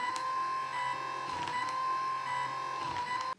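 A homemade noodle cutting machine runs with a steady high whine and faint mechanical clicks, a continuous close hum that cuts off abruptly at the end, no one speaking.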